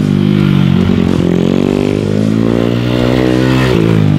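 A new supermoto motorcycle revs loudly and close, its engine holding a steady rough drone with rising and falling throttle blips and a short dip near the end.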